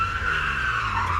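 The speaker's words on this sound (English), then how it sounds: "today's noise will be a car screeching to a halt and then hitting a pedestrian" Car tires skidding and screeching in one sustained, loud squeal across the whole moment, steady and unbroken with no impact following, a sound effect heard alone.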